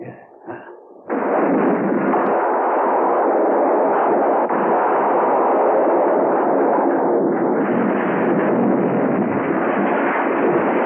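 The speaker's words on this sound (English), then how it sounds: "It seems to have exploded." A loud, sustained roar bursts in after a brief quieter moment and rumbles on steadily, like a large blast continuing to thunder.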